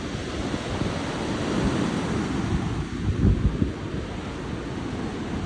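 Pacific Ocean surf at Brookings, Oregon rumbles in a steady wash of waves, with wind buffeting the microphone throughout and a slightly louder surge midway, no voices.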